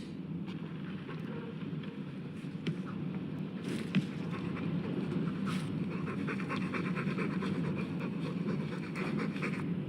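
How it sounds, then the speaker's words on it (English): A dog panting heavily in the video game Dragon Age 2, with rapid, steady breaths close up and a few brief clicks and rustles mixed in, continuing without a break and with no talking. "All that noisy dog breath,"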